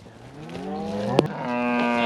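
A cow lets out a long, loud, drawn-out moo close by during a cattle drive, with another bovine call overlapping in the background.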